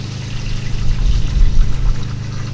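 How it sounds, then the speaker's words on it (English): Water gushes and trickles out steadily in a low, splashing pour from the bell housing of a Jeep FC-150, close by, with no voices. "see if any water comes out"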